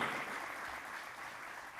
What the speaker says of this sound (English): And to our audience, round of applause, please, before we get on.